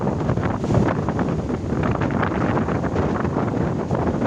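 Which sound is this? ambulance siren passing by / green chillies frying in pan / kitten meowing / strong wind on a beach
strong wind on a beach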